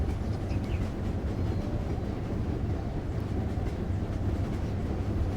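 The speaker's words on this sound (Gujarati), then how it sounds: "આપણી ટ્રેન ખૂબ જ ઝડપી દોડી રહી છે" A passenger train running fast, heard from inside as a dense, steady low rumble and roar with faint rhythmic rail clatter, loud and unbroken throughout.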